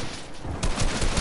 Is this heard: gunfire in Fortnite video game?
yes